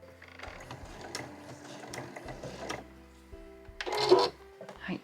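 A domestic sewing machine stitches around the edge of a small curved pouch sewn from Marimekko fabric with a 12 cm zipper. Its mechanism whirs and clicks in short runs, with brief pauses between them, and one louder burst comes near the end.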